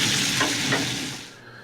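Shallots sizzle steadily in a hot pan, a bright continuous frying hiss with a couple of stirring scrapes before the sound fades out.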